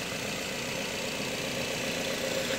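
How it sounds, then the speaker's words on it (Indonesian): A Nissan X-Trail engine idling smoothly and steadily at close range, a soft continuous hum with no talking. "apakah ada suara-suara yang aneh yang keluar dari mesin ya"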